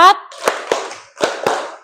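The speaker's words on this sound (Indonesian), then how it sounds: "yuk kita tepuk dulu. Tepuk 1, tepuk 2, tepuk 3, tepuk 4" Four sharp hand claps land in two quick pairs, close and loud, after a brief voice at the start, in a classroom with children.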